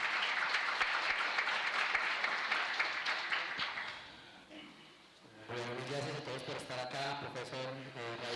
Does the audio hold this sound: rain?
no